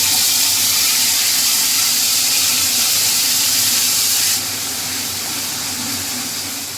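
A paste of two small tomatoes, half an inch of ginger and a few green chilies hits a hot pan, giving a loud, steady hiss and sizzle that eases slightly partway through.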